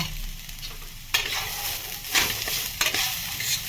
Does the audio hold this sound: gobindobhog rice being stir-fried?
yes